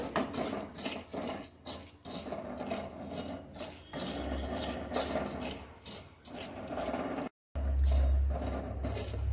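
Chickpeas roasting in a pan over a low flame, with dry rattling and scraping as they are stirred, a close, busy clatter with brief pauses.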